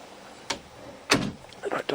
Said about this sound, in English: I'm trying to shut the door.